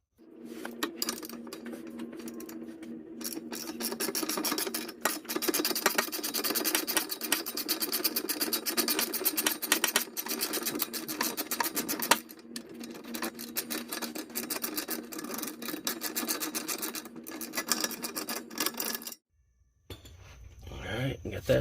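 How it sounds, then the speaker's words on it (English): Metallic clinking and scraping as vice grips work an 18mm nut on the rear axle of a V8-swapped New Edge Mustang, steady close-up rattling for most of the clip before cutting off near the end. "I'm going to use some vice grips and get on this nut, which is an 18mm."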